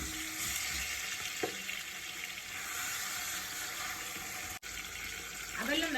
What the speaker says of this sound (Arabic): حطيت بقى شويه زيت، هنزل بقى بالفراخ عشان تاخد تشويحه كده وتاخد لون حلو